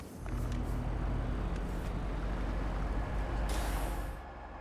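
A Turbo VTEC car in a racing video game drives with a loud, steady engine roar. A sharp hiss bursts out near the end, and there is no talking.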